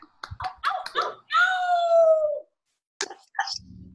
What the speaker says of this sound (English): Oh, I hear a wolf.